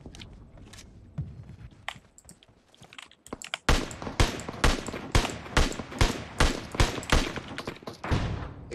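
Repeated sharp sniper rifle shots in a bolt-action shooting video game, a rapid series of loud broadband cracks with short gaps, following quieter rustling and scattered impacts.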